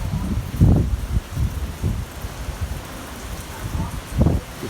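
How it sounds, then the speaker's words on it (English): Hurricane Ida wind and rain in Terrebonne Parish: steady rain hiss with low, buffeting gusts that swell and fade in irregular bursts, the strongest near the start and end, close to the microphone. "hear when that gust kicks up how scary that is"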